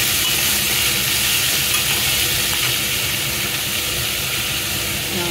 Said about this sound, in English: Allow it to fry for 15 minutes on high flame.